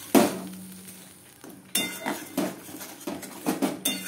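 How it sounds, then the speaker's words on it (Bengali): A spoon stirs and scrapes a ground spice paste in a metal pan for a vegetarian potol posto dish, with sharp, irregular clinks and knocks against the pan. "এটাকে ভালো করে মিশিয়ে নিচ্ছি"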